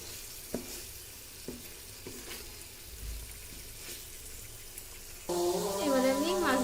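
Hilsa fish simmer in spice masala in a pan with a soft continuous sizzle and a few light utensil taps, then a brighter, louder bubbling or frying burst near the end, with no talk.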